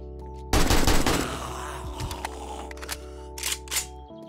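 An AK rifle in 7 Days to Die lets off a loud, dense burst of automatic fire that fades into scattered clanks and clicks over a steady background hum.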